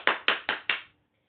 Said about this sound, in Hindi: लड़की ताली बजाती है।